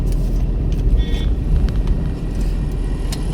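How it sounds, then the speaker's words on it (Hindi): A car drives along a road with steady, loud engine and tyre rumble close by, a brief high tone briefly cutting through the traffic noise. "पर इसे देखो गाड़ी आ रही ना आपकी"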